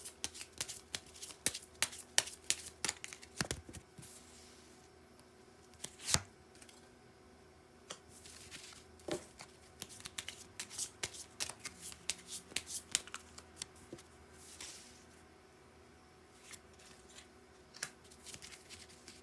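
Tarot cards being shuffled and drawn: a close, steady run of crisp riffling flicks and sharp card snaps, with a few louder slaps along the way and no voices.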